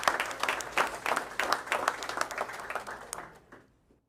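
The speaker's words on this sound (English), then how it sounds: "let's give another round of applause for our National History Day state qualifiers" Audience at a school board meeting applauds award recipients, a brisk burst of many hands clapping that holds steady for about three seconds, then fades quickly to silence.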